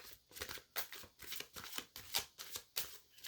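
A deck of cards being shuffled, with quick riffling bursts repeated in a steady rhythm, close and fairly soft, and no talking.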